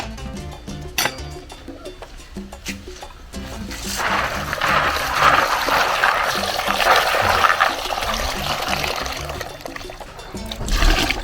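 Water runs from a tap while ingredients such as coconut, ginger and sweet potato are washed for a homemade tigernut drink, a steady close rush and splash that swells midway, with a few knocks and clatters before it.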